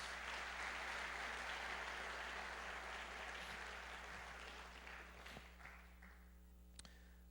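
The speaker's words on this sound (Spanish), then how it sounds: "Dale el aplauso al Señor ahí donde está." Faint applause from a church congregation during a sermon, a soft wash of clapping that thins out toward the end, over a steady low hum, with a few sharp isolated claps.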